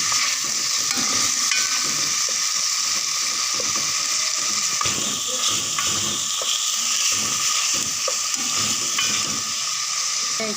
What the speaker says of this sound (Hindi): इसे मैं हल्का सा इसे भी फ्राई करूँगी।